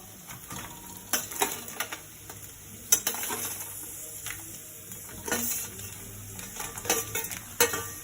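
Crab is stirred into masala frying in a pan for crab sukka, with soft sizzling under scraping and clinking stirring strokes that come in uneven bursts, nearby and fairly quiet.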